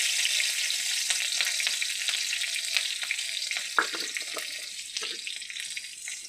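Black cumin, crushed garlic and two green chillies sputter in hot oil in a pan, producing a loud, steady frying hiss with scattered crackles and one sharper pop midway.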